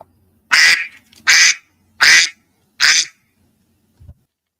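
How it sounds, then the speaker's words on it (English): An iPhone duck quack sound effect plays four loud, evenly spaced quacks, each about half a second long, with a faint soft thump after them and no talking. "That's the Quack off of the iPhone."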